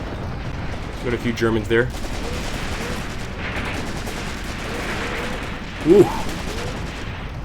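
Units fire on a trench in the war game Graviteam Tactics: Mius-Front, a steady bed of distant gunfire and rumble, with someone talking over it and exclaiming once.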